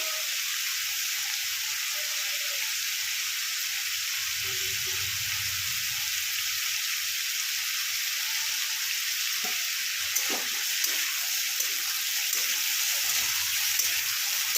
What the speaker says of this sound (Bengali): আলুটা একটু ভেজে নিয়ে ফেরত আসছি